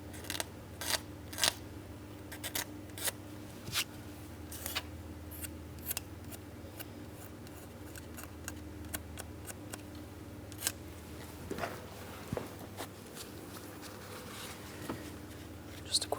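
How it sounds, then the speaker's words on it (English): A plastic flat-blade razor scrapes engine gasket surfaces around the ports on a 2003-2007 Cadillac CTS 3.6L V6, producing repeated short, sharp scraping strokes close up over a faint steady hum. "We'll scrape out and away from the ports."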